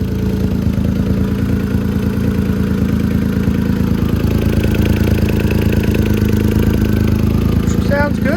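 A newly installed engine in a 2008 Smart ForTwo running on its first start, holding a steady, loud, close idle with a rhythmic mechanical clatter throughout, while voices talk over it.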